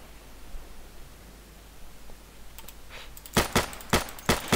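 Gunfire in the Insurgency shooter game at pop-up targets: after a quiet, hissy stretch, a quick burst of several sharp, loud shots cracks out near the end.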